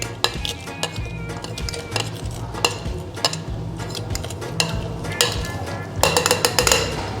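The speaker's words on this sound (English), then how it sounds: "So we're gonna muddle them all together to release all the flavors." Basil leaves muddled for a Red Snapper cocktail, a muddler thudding and grinding against the glass in repeated close knocks, with sharper clinks clustering near the end.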